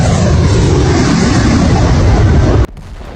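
A HIMARS rocket launcher fires at a Russian surface-to-air missile system, a loud, sustained broadband roar that holds steady for over two seconds before cutting off abruptly into near quiet.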